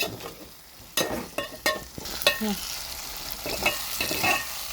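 Prawns fry in a thick masala in a pan for prawn biryani, a close crackling sizzle broken by several sharp spoon scrapes and stirs.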